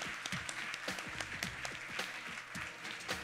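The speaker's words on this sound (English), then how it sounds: "Let's give them a round of applause." Audience at an awards ceremony gives steady, dense applause, fairly faint and continuous, with a few distinct nearby claps standing out.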